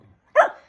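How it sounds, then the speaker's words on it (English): A Shetland sheepdog lets out one sharp, close bark in an otherwise quiet room, short and loud with a brief trailing tail. "she barks like this pretty much, yeah, all day long, unless she's sleeping or eating"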